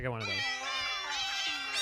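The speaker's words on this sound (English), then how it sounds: "And a Final Fantasy Meow fanfare." A harmonic, musical meow rises and falls in a sustained Final Fantasy-style fanfare tone, loud and continuous over a soft background.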